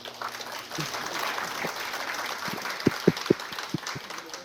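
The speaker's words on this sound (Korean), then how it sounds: "큰 박수로 박원희 원장님을 모시겠습니다" A steady clapping crowd fills the room, with a few louder thumps and knocks near the end.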